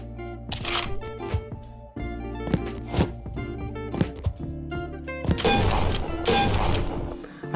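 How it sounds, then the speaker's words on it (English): Gunfire effects from an indie Unity shooter game play as a series of sharp punchy shots, single bursts then a denser rapid volley near the end, loud and with no talk over them. "They're just gun sounds"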